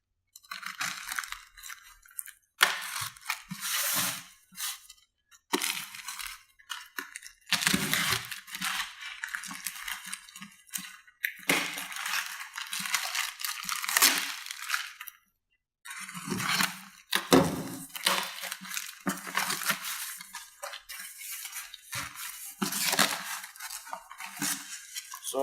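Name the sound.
opening the box of a VS Racing turbo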